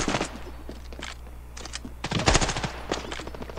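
In the game Standoff 2, a teammate fires, giving close, loud rapid bursts of automatic gunfire. Short volleys are separated by brief gaps, and the densest, loudest burst falls near the middle.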